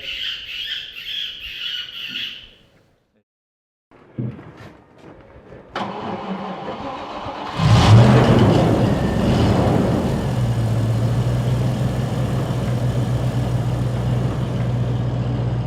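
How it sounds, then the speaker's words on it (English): A specially adapted Land Rover set up for night fox shooting in the British countryside: a squawking chirp, a short silence and some clunks, then the engine cranks, catches and settles into a steady, loud, close idle. "for a spin in his specially adapted Land Rover, which he drives from the roof."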